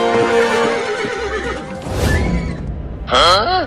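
A horse whinnies loudly and close, with a shaky descending neigh at the start and a second sharp whinny near the end, amid some background rumble.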